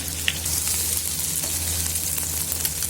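Beef frying in a pan gives a loud, continuous close-up sizzle with a steady hiss, a low background hum and occasional small pops.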